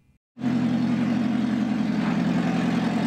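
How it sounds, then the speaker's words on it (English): A car engine cranks and starts after its catalytic converter was stolen, bursting in abruptly after a brief silence into a loud, harsh, rumbling idle that holds steady and close. "That is the sound that Esteban Moreno heard when he tried to start his car a few days ago"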